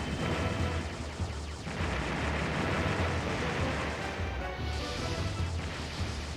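Missiles are shot down in the video game Star Fox Adventures, producing a dense, continuous wall of rumbling explosions and crashing bursts that stays loud from start to finish.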